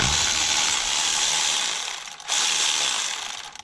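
A ratchet wrench clicks rapidly and continuously while loosening bolts on wiring brackets attached to a Toyota fuel rail, with a brief break midway before the loud, close ratcheting resumes.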